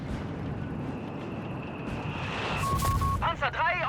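Artillery barrage explosions from Company of Heroes 3 make a dense, continuous rumble of booms in a desert battle between Afrika Korps and US forces. A commentator's voice rides over the din.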